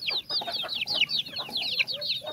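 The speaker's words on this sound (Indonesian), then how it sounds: "tuh tuh ayamnya di atas" Clucks and squawks from Bangkok chickens, a rapid jumble of close, fairly loud calls from several birds overlapping with no pause.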